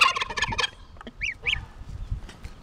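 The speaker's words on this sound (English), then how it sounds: "Gobble, gobble." A turkey gobbles, with a few short, nasal warbling calls following a brief burst of rapid cackling, close and fairly clear against a quiet background.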